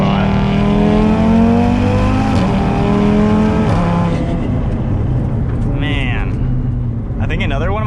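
An 800 HP big-turbo Audi RS3 with a built motor accelerating hard, engine note climbing through rising pitch sweeps with gear changes, loud and close from inside the car, a voice talking over it.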